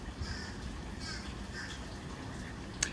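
Crows cawing outdoors in the background, faint repeated calls spaced across a steady low ambient rumble, with one sharper brief sound near the end.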